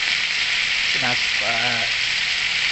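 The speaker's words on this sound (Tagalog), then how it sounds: "Ina-half fry ko na po yung first batch" Chicken half-frying in hot oil in a pan, steady loud sizzling hiss throughout, close up, with a voice briefly speaking over it.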